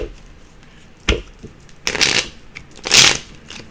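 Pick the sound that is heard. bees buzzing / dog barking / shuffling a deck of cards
shuffling a deck of cards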